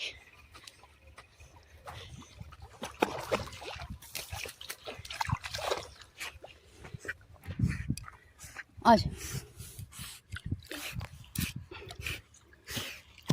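Two dogs swim and play-fight in water, with scattered splashes, snarls and whimpers close by, while a person talks over much of it.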